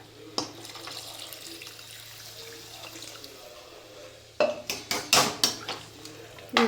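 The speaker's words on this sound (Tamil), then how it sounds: "இப்போ தண்ணி ஆட் பண்ணிக்கலாம்" Steady rushing of water poured into a pot of cooking chicken, followed by a few sharp metallic clanks and knocks near the end.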